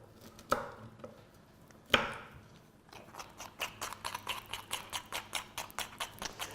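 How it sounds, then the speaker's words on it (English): A knife chops broccoli on a cutting board in a kitchen while salmon is being prepared: two sharp isolated strikes, then a quick steady run of close, crisp chops. "can you just cut up some broccoli for me?"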